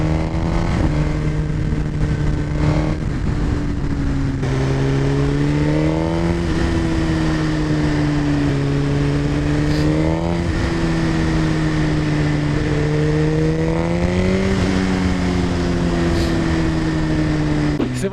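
A Suzuki GSX-R1000 sport motorcycle engine on the move: a loud, close, continuous drone whose pitch rises and dips with gear changes and throttle, with wind rushing over the microphone.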